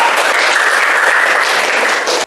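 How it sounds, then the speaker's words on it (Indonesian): Classroom applause, a dense steady patter of many hands clapping together for over two seconds, loud and close, then cutting off abruptly. "Tepuk tangan sekali lagi untuk kita."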